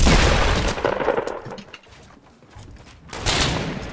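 A gunshot in Fortnite Battle Royale rings out loud at the start and decays, followed by a quieter stretch and another sharp crack of fire near the end.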